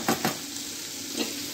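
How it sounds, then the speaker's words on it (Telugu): Potato curry is stirred in a frying pan, giving a close crackling sizzle with two quick scraping strokes at the start and another stir just past a second in. "అందుకే మళ్ళీ ఒకసారి ఇలా మరలేసుకోవాలి, తిప్పుతూ ఉండాలి."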